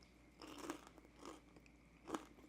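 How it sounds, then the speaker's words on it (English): Crisp bites into a crunchy air-fried egg roll: three distinct crunches about half a second apart, close to the mic and fairly quiet, with soft chewing between them and no voices. "I wanted you to hear the crunchiness of it"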